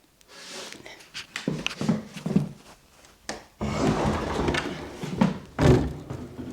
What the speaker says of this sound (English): A sliding door that doesn't slide very easily.